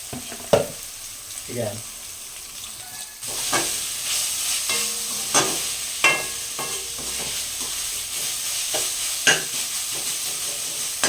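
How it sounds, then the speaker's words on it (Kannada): Ginger-garlic paste fries with chopped mint and coriander in a pan for chicken fry, making a continuous close sizzle punctuated by several sharp spatula scrapes and stirs. "ಇದನ್ನ ಒಂದು ಟೆನ್ ಸೆಕೆಂಡ್ಸು ಫ್ರೈ ಮಾಡ್ಕೊಳ್ಳೋಣ"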